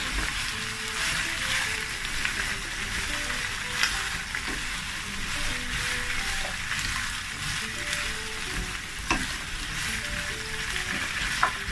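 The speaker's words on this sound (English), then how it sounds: "I'm not going to be frying this for long" Pepper steak vegetables with Scotch bonnet frying in a pan, giving a steady, close sizzle and crackle throughout with a few small pops and occasional stirring sounds, no voices.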